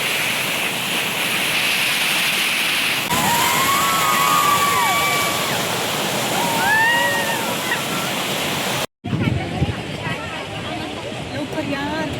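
Rushing water roars in a steady broadband wash at a small waterfall-like outflow at a water purification centre, with a voice speaking over it and brief whistle-like tones; a short cut near the end.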